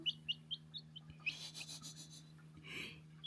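A tiny pet bird chick chirps in a quick series of high, thin peeps, then a brighter flurry of chirps close to the microphone, with a faint steady hum underneath.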